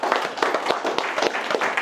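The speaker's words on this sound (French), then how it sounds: "applaudissez pour Mansour Justin." An audience claps for Mansour Justin at a talk on leadership, a brisk, dense patter of many hands clapping together at a steady, rhythmic pace, close and fairly loud.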